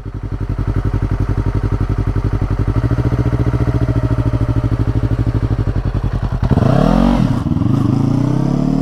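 Motorcycle engine idling with a steady rapid pulse, then a clunk as it drops into first gear and revs up as the bike pulls away; loud and close, no talk.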